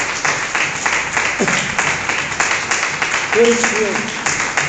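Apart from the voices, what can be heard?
congregation applauding in church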